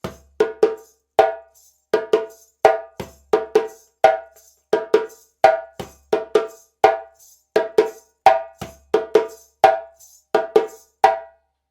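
Hand strokes on a djembe lay down the second accompaniment of Guinea's Fakoly rhythm, a repeating groove that opens on a bass note and continues in crisp slaps and tones, heard close and solo.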